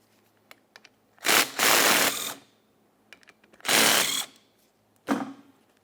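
Ratchet wrench removing the two 14mm mounting bolts from a front brake caliper on a 2014-2019 Toyota Corolla: three separate bursts of close, rapid clicking, each about a second long, with small taps and clinks between them.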